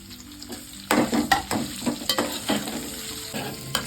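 A medium onion, cut up, fries with garlic in a pan while mint chutney is being made. Oil sizzles steadily close by, broken by sharp scraping knocks as the pieces are stirred, with no talking.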